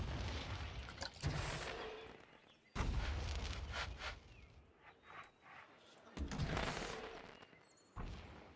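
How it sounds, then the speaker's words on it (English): Fireworks going off in the theme-park building game Planet Coaster: repeated booming bursts and crackling pops in several loud waves, with a brief quieter stretch between them. "You can put fireworks down."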